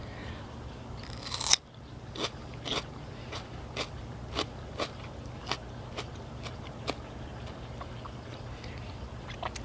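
A crisp sweet pepper being bitten and chewed, giving one loud crunch followed by a steady series of sharp crackly bites, close and clear with no talking.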